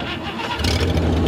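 The engine of an old 1962 AMC Rambler car cranks briefly and then catches, settling into a low rumble, loud and close.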